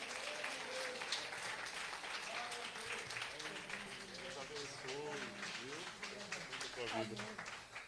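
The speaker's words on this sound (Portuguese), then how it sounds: "Aplauda ao Senhor em nome de Jesus." A church congregation applauds through a Sunday service, steady dense clapping filling the space, with voices and tonal singing or speech contours rising above it.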